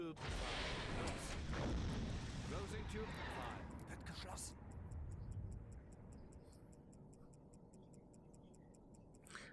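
In the submarine game Silent Hunter 5, a torpedo launch sounds as a loud rushing burst that fades into quieter rumbling, followed by a steady, fast ticking like a clock.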